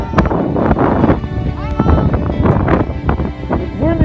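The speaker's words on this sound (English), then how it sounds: "It's windy up here, Mom." Gusty wind buffets the microphone on a mountain top, a rough, loud rumble that surges and drops throughout while a voice talks over it.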